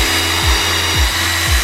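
A power drill bores a hole into a wooden block for a bee hotel, its motor humming steadily with three bogging dips as the bit bites into the wood, close and fairly loud.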